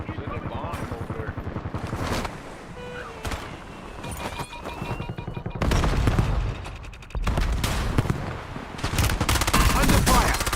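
Video game gunfire rattles in rapid bursts and scattered shots, loud and close, with heavier volleys in the second half, mixed with voices.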